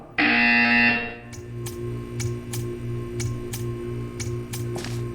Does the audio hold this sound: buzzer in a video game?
yes